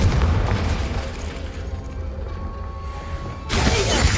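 A Confringo fire-blast spell from Hogwarts Legacy, cast in a classroom, arrives as one sudden loud bursting blast after a stretch of steady rumbling game ambience.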